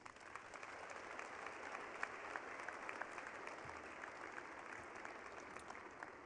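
Faint, distant applause from a commencement crowd, a steady wash of many hands clapping that continues without a break.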